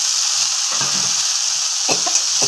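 Chopped tomato dropped into a frying pan of red amaranth greens, giving a constant loud close sizzle with a couple of brief scraping stirs of the spatula.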